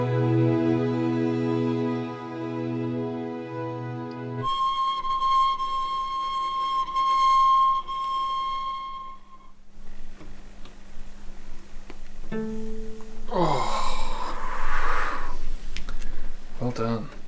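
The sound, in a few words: harmonic whistles with vibrato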